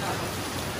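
Steady rain pours down around a group of motorbike riders gathered outdoors in a downpour, a dense continuous hiss filling the short moment with no clear speech over it.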